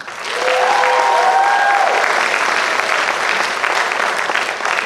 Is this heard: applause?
yes